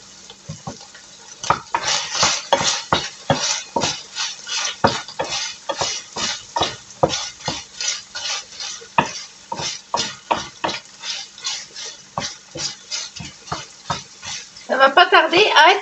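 Carbonara pasta ingredients stirred and browning in a frying pan, with a frying hiss and repeated rhythmic scraping strokes of a utensil, loud and close throughout, getting busier at the end.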